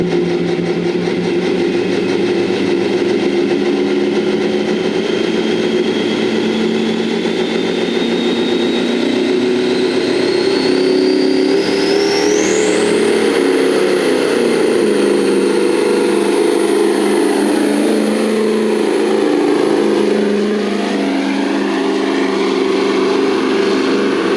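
A heavy modified semi truck engine of over 2,000 horsepower roars steadily at a truck pull, its pitch climbing as it revs hard and then easing back down, loud and close throughout.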